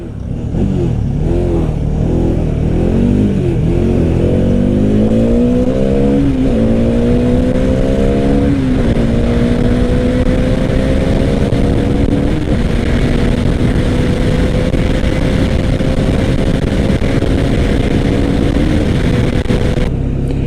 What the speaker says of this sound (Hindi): Even the exhaust note on this bike is very sweet. Even the engine noise is very sweet.